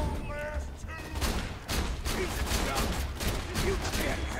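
Shotgun fire in the video game Borderlands 2, a dense run of overlapping blasts and explosions, with someone talking over the action.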